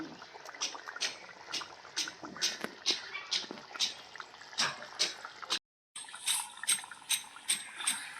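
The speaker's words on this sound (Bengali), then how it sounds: "তো এই লাল লাল ঝাল ঝাল ঝোল টকবক করে ফুটে গেল" Spicy red chicken curry gravy boils in a pot, thick bubbles popping and plopping in a loose, uneven rhythm close by, with a short silent gap partway through.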